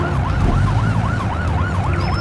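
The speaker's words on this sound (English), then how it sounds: "The police car patrols back and forth, its red and blue roof lights spinning anxiously." An animated police car's siren wails in a rapid, regular rising-and-falling cycle over a low engine rumble, loud and close, with no talk.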